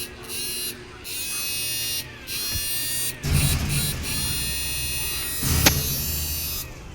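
An old model power inverter runs on a battery with a steady electric buzz that cuts in and out in short bursts, faint and close, while a person talks over it.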